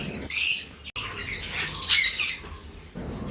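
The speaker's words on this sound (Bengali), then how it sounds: "ওই যে লাভবার্ডদের মাতব্বরি করা চেঁচামেচি" Pet lovebirds squawk and screech in a home aviary at morning feeding time, with a few sharp shrill bursts over a low rustling background and no speech.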